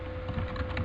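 A computer keyboard typed on while entering code, a steady quick patter of key presses up close over a faint background hum.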